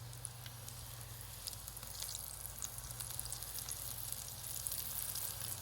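Beer-battered homemade onion rings deep fry in hot oil, a steady close crackling sizzle with dense popping bubbles that holds level throughout, no voices.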